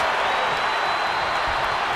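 Arena crowd in the WWE 2K23 wrestling game cheering and applauding after a WrestleMania championship match between Goldberg and Brock Lesnar, a steady dense roar of clapping and cheers with no pauses, filling the whole moment.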